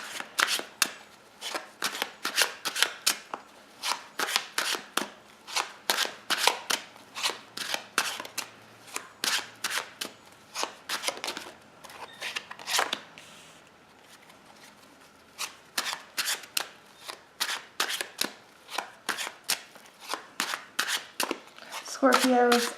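A deck of tarot cards is shuffled by hand in quick repeated bursts of crisp riffling and slapping, close and fairly loud, with short pauses between runs over about twenty seconds.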